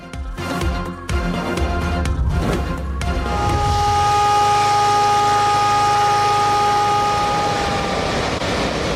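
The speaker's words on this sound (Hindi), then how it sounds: "इंतजामिया ने सायरन बजाकर इतराफ की आबादी को अलर्ट किया" A warning siren sounds near the Rawal Dam spillways in Islamabad to alert nearby residents, a loud sustained wail holding a steady tone after a noisy, clattering start, continuous and alone.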